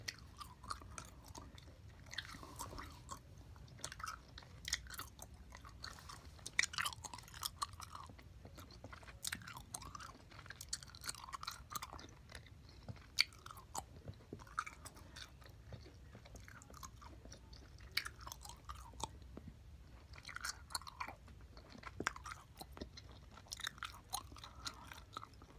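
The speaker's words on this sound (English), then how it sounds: "This gum is good, but I'm sure you can hear I'm sucking all the flavor out of it." Close-up wet chewing of gum, soft rhythmic smacks and squishes repeating steadily for about 25 seconds in a quiet room, with no talking.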